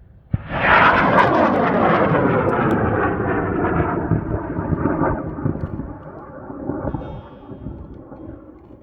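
An experimental rocket called Dearly Departed ignites on Lead 84 at the BALLS 31 launch event: a sharp onset erupts into a loud, sustained roar that slowly fades and thins as the rocket climbs away.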